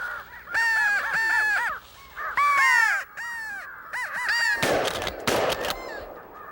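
Crows caw loudly and nearby during a crow hunt with an owl decoy, in several rapid bursts of harsh calls, followed by a broadband crack near the end.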